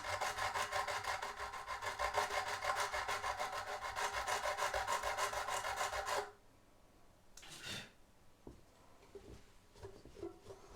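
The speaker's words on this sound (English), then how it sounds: "it's probably taken, what, 5-6 minutes of actual filing, and they feel so much better" A file works sharp fret ends on a ukulele neck, close rhythmic rasping strokes for about six seconds, then it stops, leaving quiet handling sounds and a brief scrape.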